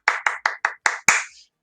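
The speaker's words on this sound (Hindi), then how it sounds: "मोहम्मद रफी के लिए जोरदार तालियां।" Hand clapping in a quiz session honouring Mohammed Rafi: six sharp, close claps in a quick, steady rhythm, the last one louder and ringing out a little longer, with no voices.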